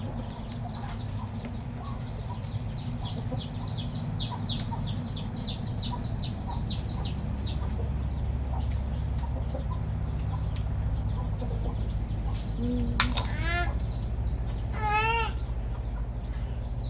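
Chickens cluck and a rooster calls in a rural yard over steady low background noise, with a cluster of rapid chirps early on and a couple of louder drawn-out calls near the end.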